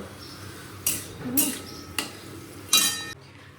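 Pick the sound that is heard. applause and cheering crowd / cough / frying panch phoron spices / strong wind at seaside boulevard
frying panch phoron spices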